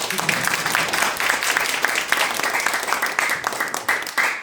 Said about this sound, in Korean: 박수 한번 시작하겠습니다